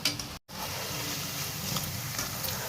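Doi bora lentil dumplings frying in hot oil give a steady, close sizzle that runs almost throughout, broken only by a very short silent gap near the start.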